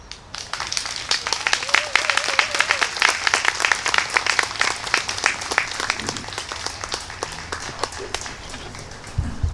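A church gathering applauds after a talk, a dense spread of individual claps building and sustaining for around nine seconds, fairly close and lively, with a brief voice faintly heard early on.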